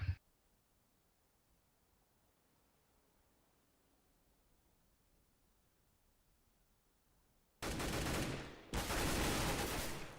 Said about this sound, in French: il tombera sous les balles de Kucherok